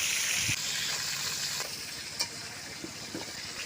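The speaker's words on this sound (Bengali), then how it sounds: "তো মাছগুলো ভাজা হয়ে গিয়েছে, এখন আমি চুলা থেকে নামিয়ে নেব।" Tilapia fish fry in oil in a wok over a village clay stove, a steady broad sizzle and hiss with a few light clinks and taps of the utensil.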